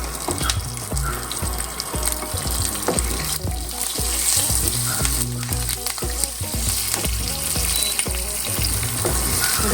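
Curry leaves, dried and green chillies and peanuts fry in hot oil as a tempering for rice flour upma, a dense crackling sizzle with spattering pops and occasional stirring clinks, steady and close.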